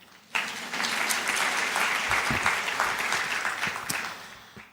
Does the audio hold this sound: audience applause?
yes